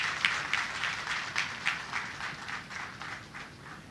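Sustained applause from an audience at a medical college graduation honouring newly qualified doctors, many hands clapping in a lively, somewhat rhythmic wave that gradually softens toward the end.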